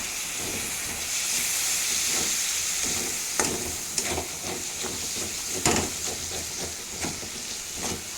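A spice paste of chili powder, cumin powder, ginger and garlic paste with salt fries in oil with a little water for a bhetki fish curry, hissing and sizzling steadily while a utensil scrapes and stirs at intervals.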